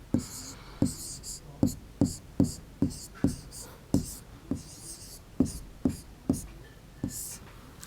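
Pen or chalk writing on a board or paper, a steady series of about fifteen distinct scratchy strokes in an even rhythm, close and clear, during a Class 3 maths lesson on measuring length.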